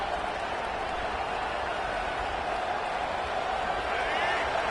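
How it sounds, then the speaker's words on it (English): Steady roar of a football stadium crowd at an Auburn versus Alabama game, a continuous dense wash of cheering and noise at constant loudness, with a commentator's voice talking over it. "This crowd trying to make life miserable for this offense."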